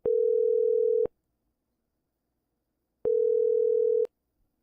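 Telephone call ringing out, two loud steady one-second ring tones separated by about two seconds of silence.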